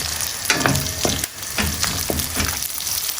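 Garlic and onion fry in hot rendered beef fat in a pan for a beef mechado, giving a steady loud sizzle broken by several stirring scrapes at irregular intervals, with no talking.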